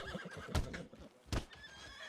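A horse neighs twice in the Red Dead RP video game, each whinny a loud, close burst separated by about a second, with softer hoof clip-clops and background game sounds in between.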